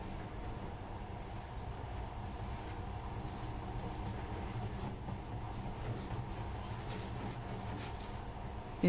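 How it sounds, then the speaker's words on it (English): A monorail train in the video game Metro: Last Light Redux runs with a steady, continuous rumbling hum and rattle that holds evenly throughout, with no talking. "In the past, trains were ordinary things. But now, this monorail seems magic, doesn't it?"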